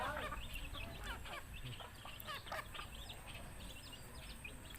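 Chickens squabbling and clucking close by, with a flurry of overlapping bird calls and scuffling over a steady outdoor background.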